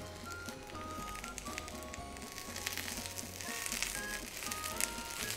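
Sukiyaki beef searing in a hot pan gives a steady, close sizzle with crackling pops throughout, growing slightly louder toward the end, with no talking.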